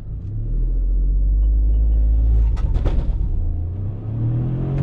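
Mahindra XUV300 petrol AMT car accelerating hard with gears shifted manually, a loud low engine rumble that climbs, dips at a shift, then builds again, heard from inside the cabin.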